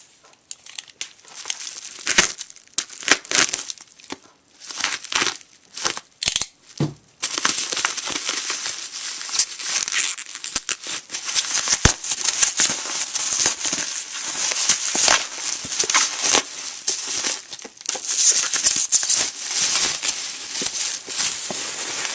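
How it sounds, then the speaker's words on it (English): Bubble wrap being cut and crinkled off an Athearn SD40-2 model locomotive during unboxing, with sparse crackles at first, then steady dense crinkling and snipping close up, no talking. "we got a little bit of bubble wrap to cut off"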